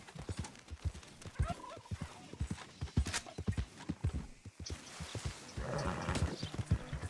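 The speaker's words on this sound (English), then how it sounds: "Behold, the horse." Horse hooves clip-clopping in a quick irregular rhythm, fairly close and clear, with a busier patch of noise late on and no speech.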